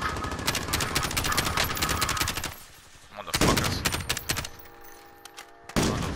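Rapid automatic gunfire in Call of Duty Warzone, loud bursts broken by a brief pause and then more sharp volleys, with faint voices in the background.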